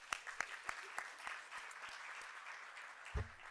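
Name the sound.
applause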